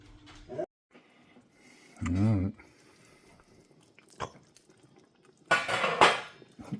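A pot of turkey soup clanks and scrapes as it is set back on the stove, with two loud bursts of metallic rattling and a sharp knock between quieter gaps, under brief talk.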